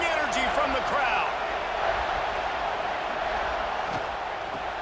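Stadium crowd noise in EA Sports College Football 26 during a goal-line play, a steady roaring wash of cheering fans under a commentator's voice, with a few brief whistle-like tones early on.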